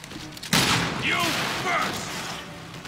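Gunfire in the video game Resident Evil Revelations 2 comes as a burst of loud shots and booms, mixed with game sound effects and a voice talking over it.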